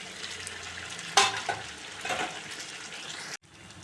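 Boiled potato, cauliflower and paneer sauté gently in a pan over a low flame, a quiet frying hiss with a clatter of stirring near the middle, cut off abruptly at the end.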